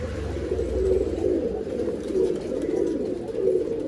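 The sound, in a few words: pigeons cooing, Mundi Chini pigeon breed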